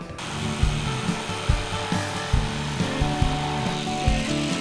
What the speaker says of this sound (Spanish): Agarra la sierra de calar, Antonio.